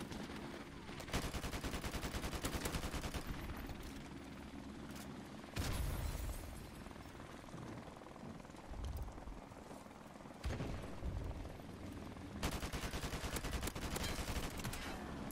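Rapid machine gun bursts from a vehicle turret in the online shooter Modern Warfare Remastered, loud and near, coming in dense rattling stretches broken by booming impacts, with brief gaps between volleys.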